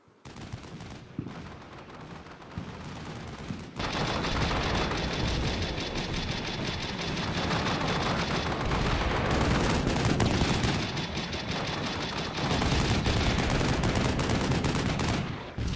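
Simulated 155mm artillery in a fire-for-effect barrage in Combat Mission: Shock Force 2 sets off a dense, sustained rumble of overlapping blasts after a quieter start, loud and continuous with brief surges.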